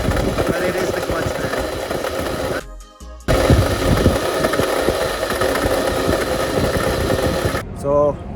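A Mercedes G-Wagon engine idles with a rattling clutch noise, a close, busy mechanical chatter that cuts out briefly near the middle, then resumes steadily before a short change at the end.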